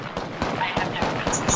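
Rapid gunfire bursts in the video game Apex Legends, several sharp cracks spaced irregularly across a second and a half, loud and close with bright ringing tails and voices talking underneath.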